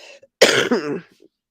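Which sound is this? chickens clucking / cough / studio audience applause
cough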